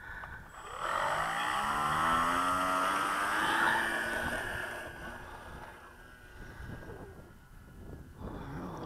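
An electric RC Storch model plane with a G10 Turnigy motor on its takeoff run, its whine rising steadily in pitch and staying loud and sustained, then fading somewhat as the plane moves away.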